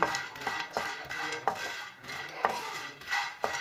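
Fox nuts (makhana) roasting in a pan over medium heat, a spatula scraping and tapping the pan in a steady rhythm of light knocks, close and fairly quiet.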